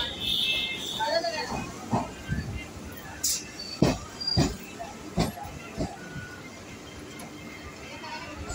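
Dankuni local train running between Bidhannagar and Bally Halt, heard from inside as a rumbling, clattering ride with hiss and occasional sharp knocks, voices talking over it.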